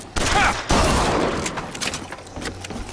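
Gunfire in Bioshock Infinite: a rapid volley of shots with heavy blasts early, then scattered cracks tapering off, mixed with faint game voices.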